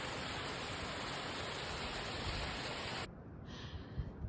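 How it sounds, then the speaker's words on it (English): A small waterfall below a mountain trail in spring on the Appalachian Trail, a steady broadband rush of falling water that cuts to a quieter, softer wash partway through. "Such a cool little waterfall down there."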